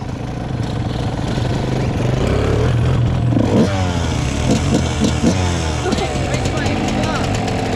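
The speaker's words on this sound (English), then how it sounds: "Starts the fucking first kick. Then idles." A freshly rebuilt 1996 Suzuki RM125 two-stroke dirt bike engine runs close by, a steady loud idle with brief revs and mechanical clatter mixed in, while people talk nearby.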